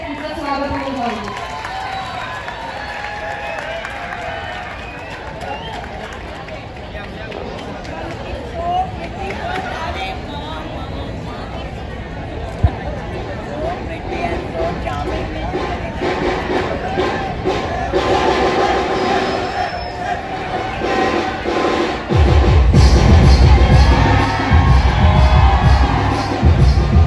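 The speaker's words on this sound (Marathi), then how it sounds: "सो एकदा जोरदार टाळ्या त्यांचं स्वागत होऊन जाऊ." A college event audience at Lala Lajpatrai College welcomes a guest, with steady crowd chatter and cheering that swells into a loud burst of applause and shouts near the end.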